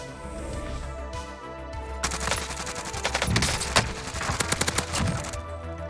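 Krig rifle gunfire rattles out in a video game match, starting after a quieter lead-in with rapid bursts of loud close shots in clustered volleys, trailing into scattered cracks.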